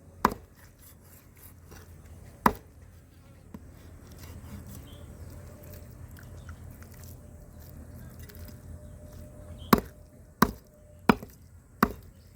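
A knife chops pieces for frying on a board in sharp separate thunks, one early and a rapid cluster of four near the end, with quiet room noise between.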